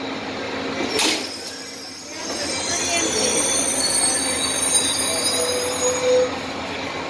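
An Amtrak Texas Eagle passenger train rolls along the rails with a steady rumble and rattle, thin metallic wheel squeals rising over the noise, heard from on board.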